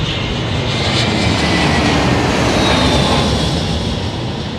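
An airliner roars loudly and steadily at London Heathrow Airport, a close, continuous broad engine rumble with a faint whine, holding strong across the whole stretch.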